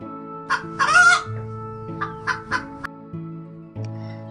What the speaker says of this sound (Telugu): గెలిచిన కోడి పుంజు ఆ గర్వంతో ఇల్లుపై నుండి గట్టిగా అరవసాగింది